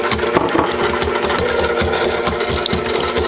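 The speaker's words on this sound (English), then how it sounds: "we're going to turn the mixer on" A stand mixer runs steadily while mixing dough for homemade butter rolls, its motor whirring with a rapid, rhythmic rattle of the beater, close and loud without talk.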